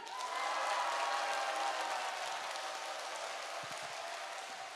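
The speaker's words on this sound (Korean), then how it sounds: "박수랑 함성 연습해볼게요" A church congregation at a special Friday worship service in Suwon, Korea, claps and cheers together as a rehearsal: a steady, distant wash of mixed clapping and shouting that swells early, then holds at a fairly faint level.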